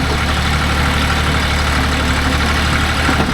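A John Deere 5310 S 70 hp tractor runs a 48-blade rotavator in farmland, its diesel engine producing a steady, loud, close drone at constant RPM with a low rumble and no pauses.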